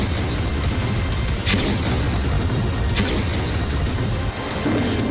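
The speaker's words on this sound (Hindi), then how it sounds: "तुर्की की तोपों का रुख एक बार फिर इराक की तरफ घूम चुका है" Turkish artillery firing on Kurdish fighters in northern Iraq: dense, continuous roar of guns with a few sharper booming reports standing out, loud and sustained with no pause.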